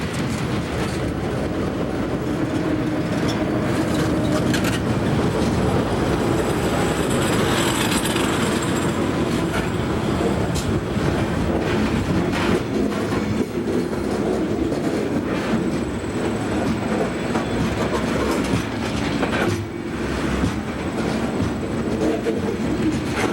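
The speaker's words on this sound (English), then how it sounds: "Helpers in the middle and a long coal train are not unusual in this town" A long Monongahela Railway coal train with mid-train helper locomotives rumbles past continuously and loudly at close range, with steady wheel clatter and rail noise throughout and occasional faint squeals.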